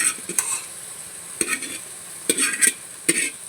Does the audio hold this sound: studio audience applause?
no